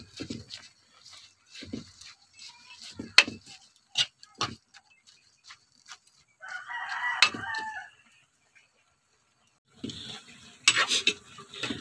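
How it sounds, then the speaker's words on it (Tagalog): Lokan clams sautéed with sweet potato leaves are stirred in a pan outdoors in Bacacay, with sharp intermittent scrapes and clinks, a stretch of sizzling, and a rooster crowing in the background. "Haluin lang natin."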